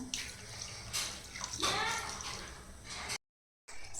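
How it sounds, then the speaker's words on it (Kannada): A glass of water is poured into a cooking pot of mutton biryani with a rushing splash that swells and then stops, followed by a short silence. "ನೀರು ಆ್ಯಡ್ ಮಾಡ್ಕೊಬೇಕು"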